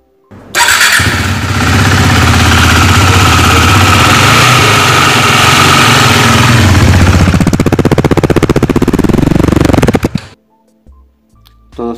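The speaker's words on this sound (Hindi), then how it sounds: "चलिए सुन लेते हैं इसका इंजन साउंड कैसा क्या सुनने को मिलता है" A KTM Duke 390 single-cylinder motorcycle starts up and runs close by, a loud steady idle with a few throttle blips toward the end before it shuts off, no voices.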